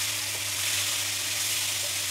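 A spoonful of simple tomato chutney fries in a hot pan with garlic, a steady, dense sizzling hiss that holds evenly throughout without pause.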